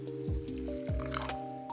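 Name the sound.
warm water poured onto matcha powder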